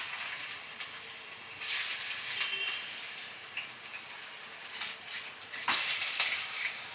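Bottle gourd sizzles and spits in hot ghee, a steady bright frying crackle with a few louder pops, heard close.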